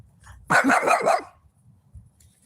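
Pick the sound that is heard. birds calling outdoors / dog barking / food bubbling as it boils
dog barking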